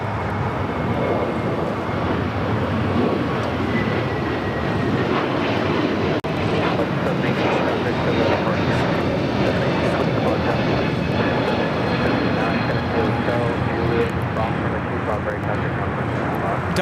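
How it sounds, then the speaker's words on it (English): A one-year-old Delta Airlines Airbus A321neo jet takes off from a runway at LAX, its engines a loud, steady, broadband roar that holds throughout while a voice talks over it. "Delta Airlines Flight 718 taking off to Orlando with Brian on board this 1-year-old A321neo"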